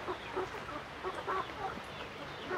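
Young chicks kept in a box on a farm, left wet by the rain, let out faint scattered clucks and peeps over a steady hiss of rainfall, with no voices.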